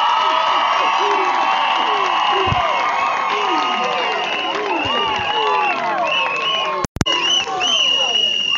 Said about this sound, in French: je souhaite que l'on applaudisse à la dimension de l'événement